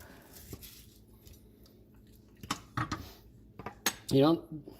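A knife and fork working through a bone-in beef rib steak on a plate, giving soft scrapes, several sharp cutlery clinks and a brief louder squeaky grind at the end, close and moderately quiet.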